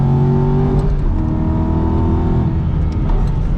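Aston Martin V8 Vantage "Valiant Ecosse" race car engine heard onboard during a lap of the wet Nürburgring, a loud, steady, droning roar with gear-related pitch shifts and mild throttle lifts, no talking.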